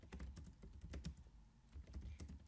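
A computer keyboard clatters with quick, irregular keystrokes as a command is typed, close and fairly quiet, with no talking.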